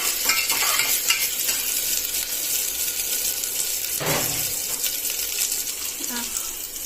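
Ground chili, coriander powder and curry masala sauté in oil for a South Indian mushroom gravy, a soft continuous sizzle with occasional scraping stirs and a louder clatter midway, low voices now and then.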